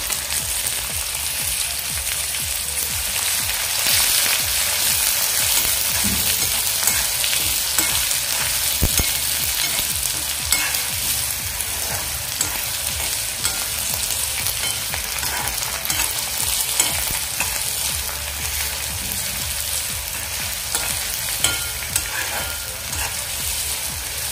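Onion and curry leaves frying in oil for vangyache bharit, an eggplant dish, give a steady, dense sizzle that runs continuously and evenly at close range with no talking.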